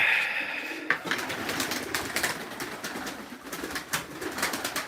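Pigeons, including a smoky-grizzled mottled bird, cooing and rustling in a loft after being fed, a busy, steady murmur of bird sounds with scattered sharper calls close by.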